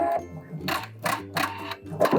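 A domestic sewing machine back stitching through fabric fitted with a gathering foot, running in short motor bursts with rhythmic needle clatter, separated by brief pauses, close and fairly loud.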